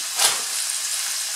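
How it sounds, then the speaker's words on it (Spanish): Sofrito sizzles steadily in a pan, a close, even frying hiss with one brief brighter crackle near the start, no voices. "Esperamos a que se nos poche ya nuestro condimento, nuestro sofrito"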